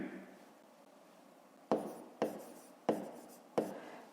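Handwriting on paper during a fifth-grade maths exercise: four distinct, close pen or chalk strokes in a quiet room, spaced roughly half a second apart after a soft lull.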